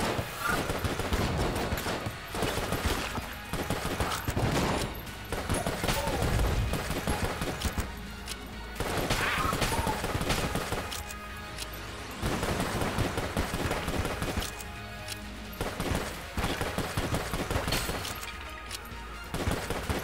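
Rapid volleys of video-game gunfire from the guns in Enter the Gungeon crackle in dense bursts, separated by short gaps, loud and close throughout.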